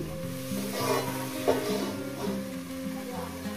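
Mourala fish frying slowly with drumstick flowers and potato in a covered pan, a moderate steady sizzle with a couple of soft stirring scrapes. Faint background music runs underneath.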